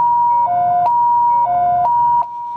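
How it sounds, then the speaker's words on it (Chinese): An ambulance siren sounds continuously and loudly nearby, cycling through a steady two-tone wail with repeated pitch shifts; the siren was driving off through northern Kaohsiung toward the port area. "救护车换伊一直叫"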